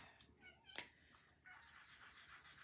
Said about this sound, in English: One of my cats is down here talking to me.